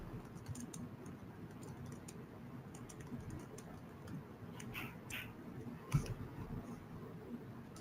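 Typing on a computer keyboard, a faint string of soft uneven key clicks close to the mic, with one sharper tap standing out near the end.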